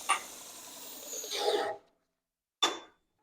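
A Harbor Freight Hercules bench-mounted belt grinder grinds steadily for under two seconds, rising in harshness before cutting off, then a short rasping burst follows after a pause.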